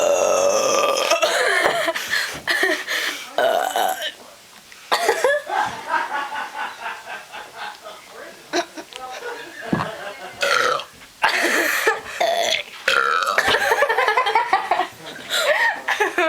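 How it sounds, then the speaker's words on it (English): Several people take turns belching loudly in a belching contest, with long drawn-out burps, bursts of laughter and giggling, coughs, and brief talk in between. "We are going to have a belching contest."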